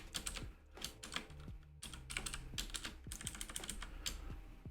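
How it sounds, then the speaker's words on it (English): Quiet, close-up typing on a computer keyboard, quick clusters of key clicks broken by short pauses, with a low hum underneath. "typing."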